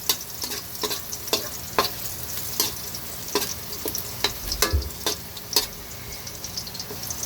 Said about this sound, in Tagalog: Napupulahin lang natin ang ating bawang para lumabas ang kanyang bango.